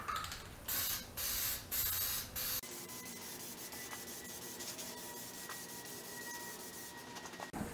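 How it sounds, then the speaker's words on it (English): Several short, loud hissing bursts of an aerosol spray paint can used on rock sliders, one after another, then a quieter stretch of faint mechanical background noise. "I'll just shut up and paint."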